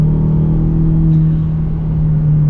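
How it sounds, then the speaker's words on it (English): A modified Ford Ranger pickup accelerates hard, a loud steady low engine drone heard close and alone with no talking. "this is actually my second attempt on an acceleration here in the Baby Raptor"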